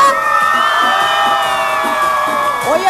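A large concert crowd at a radio station's fifth-anniversary show in Cusco shouts and cheers for a cumbia band, a loud continuous roar of voices and whoops from near and far.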